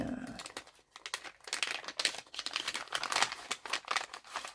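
A taped sticker package being torn open and its plastic wrapping crinkled, continuous close crackling and rustling with short tearing rasps, moderately quiet, no voices.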